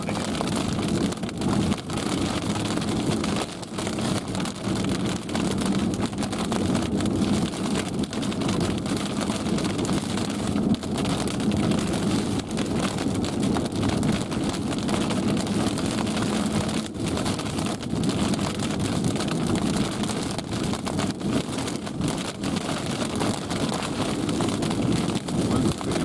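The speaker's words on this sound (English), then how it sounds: "Wind's picking up rapidly right now." Strong storm wind roaring steadily over the microphone outdoors during a live storm chase, a loud continuous buffeting rush with no clear voices.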